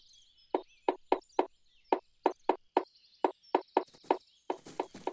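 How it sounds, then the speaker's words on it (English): Sharp wooden taps in quick bursts as a white-bellied woodpecker hammers holes in a tree, with short pauses between runs and faint bird calls in the background. "It's a bird, and it's making holes in the tree."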